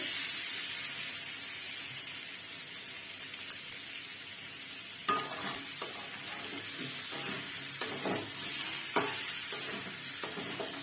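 Yam pieces frying in a pan, a constant hissing sizzle that runs throughout, with stirring scrapes and clatters starting midway.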